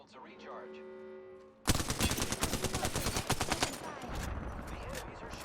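Enemy gunfire in Apex Legends erupts suddenly after a quiet stretch with a game voice line. It becomes a rapid, loud automatic burst of evenly spaced shots, then trails into continued shooting and clatter.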